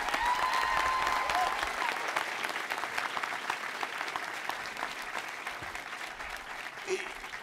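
Sustained audience applause at a Florida law school commencement ceremony, a dense, even wash of many hands clapping that fades slightly as it continues, with no voices over it.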